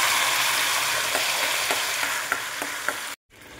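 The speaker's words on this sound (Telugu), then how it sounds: "ఆనియన్స్ ఇలా వేగిన తర్వాత ముందే చేసి పెట్టుకున్న పేస్ట్ని కూడా యాడ్ చేసుకోవాలి." Onions and a ground paste fry in oil for tomato rasam, a loud, continuous close sizzle with faint stirring ticks, cutting off abruptly near the end before a softer sizzle resumes.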